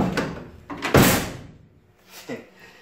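A Honda Civic EF car door is slammed shut during a panel project: a sharp loud thud near the middle, with softer knocks before and a brief clunk after, close up.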